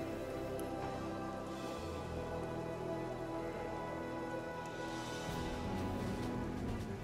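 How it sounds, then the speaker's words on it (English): Steady rain falls in Divinity: Original Sin, a continuous dense patter on surfaces with no breaks, moderately loud and even throughout, with no voices over it. "It is raining."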